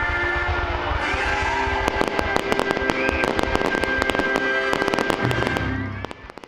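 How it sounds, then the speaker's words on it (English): Dense fireworks show pops and crackles in rapid bursts at an outdoor company anniversary celebration, loud and close, over a steady low rumble before trailing off at the end. "it was topped off with a fireworks show"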